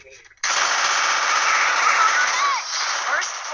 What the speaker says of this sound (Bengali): এই হেডশট লাগছে আমার বন্দুক দিয়ে